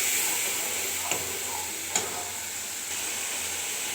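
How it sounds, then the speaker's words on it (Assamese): Masala spices fry in oil with onions, giving a steady soft sizzle with a couple of faint clicks of stirring, fairly quiet and close. "এতিয়া मैं मसलाखिनि भाजिम 5 मिनिट ভাল ধৰণে ভাজিম"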